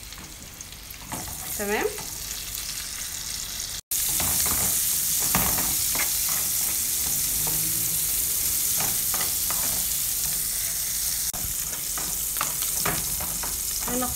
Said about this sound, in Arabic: هننزل بالبصل ونفضل نقلب فيه لغايه اما يدبل